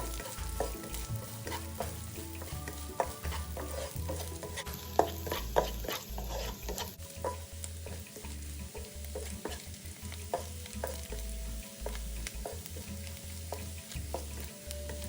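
Thirty grams of dried shrimp stir-fried over high heat for bamboo shoot rice, with a continuous loud sizzle and frequent rhythmic scraping and tossing of the spatula throughout, no voices.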